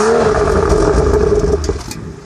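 A 2015 BMW 435 Convertible with M Performance exhaust revs loudly and close by, a sustained throaty rise that holds and then drops away as the engine settles, with no talking.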